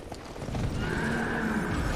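A two-headed horse creature in Dark Souls II neighs loudly, a rising whinny that cuts through heavy thumping hoofbeats and low rumble, close and forceful over about two seconds.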